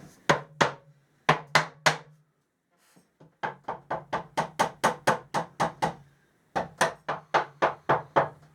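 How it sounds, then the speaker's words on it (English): A mallet knocks a glued wooden piece into place with bursts of sharp, regular wooden blows, several evenly spaced hits per burst with short pauses between, close and clear. "Now, take the mallet, knock it into place."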